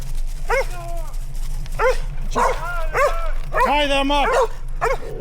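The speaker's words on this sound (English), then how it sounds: "More damn dogs." Several dogs on the Natchez Trace in Tennessee barking and yipping in repeated bursts close by, with a voice speaking among the barks.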